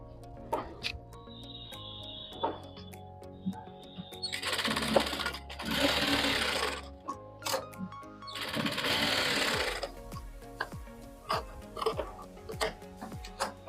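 A sewing machine stitches the shoulder seam of a blouse in two short, steady runs of rapid whirring, close by, separated by quiet handling taps and clicks.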